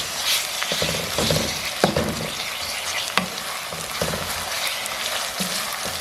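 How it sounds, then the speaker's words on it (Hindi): Minced meat (qeema) sizzling and frying with onions in a pan at home, a steady close crackle with occasional stirring scrapes and pops, no voices. "कीमे को भी मैं पहले फ्राई करूँगी।"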